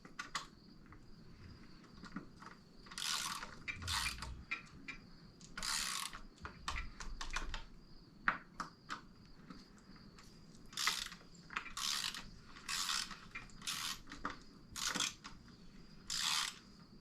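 A bicycle's stem side bolts are tightened with a 5mm torque tool, giving short bursts of crisp ratcheting clicks in irregular groups, close and fairly quiet, with pauses between them.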